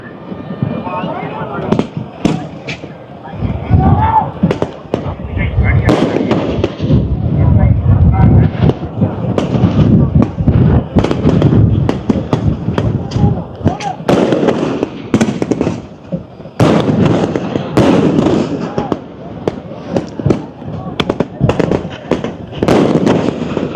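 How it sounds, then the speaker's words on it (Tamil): Fireworks at a temple festival on Nainativu island crack and boom in rapid, irregular bursts, many loud close blasts overlapping with continuous crackle and some wind noise, with the pounding nearly unbroken throughout. "அம்பாள் வர வர பிரம்மாண்டமான வான வேடிக்கை காட்சிகளை நாங்கள் இப்பொழுது பார்த்து கொண்டிருக்கிறோம்"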